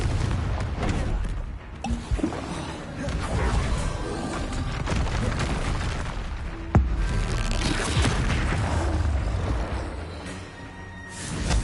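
Spell-casting blasts in the wizarding video game Hogwarts Legacy, a run of booming explosive impacts and crashes over a dense combat din, with a sharp loud hit midway and steady rumbling throughout.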